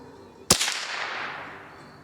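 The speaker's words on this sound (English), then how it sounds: "And the last shot" A single sharp .22 LR gunshot fired with Remington Cyclone ammunition cracks loudly and close, then trails off into a long, fading echo.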